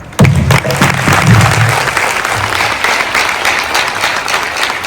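Devotees clap loudly and steadily at a religious gathering for the 200-year Shikshapatri Mahotsav in Bhuj, a dense wash of applause from start to finish with no speech over it.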